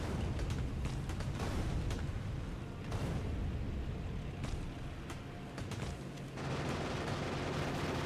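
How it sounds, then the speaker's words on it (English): Bullet gunfire in the game Factorio, with dense continuous shooting and scattered sharper cracks over a loud, steady rumbling bed, with no voices. "my bullets now definitely do more damage than they used to"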